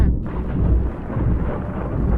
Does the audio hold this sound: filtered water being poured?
no